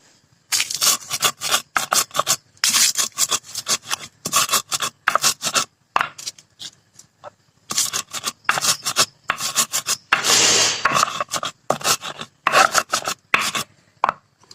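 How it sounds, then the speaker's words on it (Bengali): Ingredients are ground by hand into a coarse paste, heard as close, rhythmic bursts of harsh rubbing and scraping separated by short pauses. "এভাবে আমি বেটে নিলাম আধা বাটা করে।"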